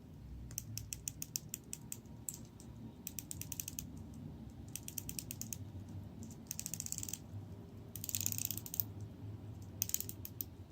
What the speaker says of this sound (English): The bezel is very well made. Has 120 clicks, and you can probably hear it out.